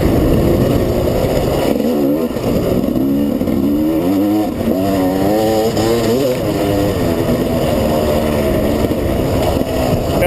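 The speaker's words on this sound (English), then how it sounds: "This bike is fantastic, really. It's just like so nice to ride. Has power everywhere." A GasGas motorcycle ridden on a muddy track revs loudly and continuously close by, its engine note rising and falling as the throttle opens and eases.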